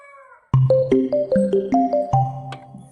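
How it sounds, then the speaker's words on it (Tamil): A phone ringtone plays a bright, melodic sequence of repeated tonal notes. It starts abruptly and stays loud and close, with no talking over it. "ஃபோன் வருது"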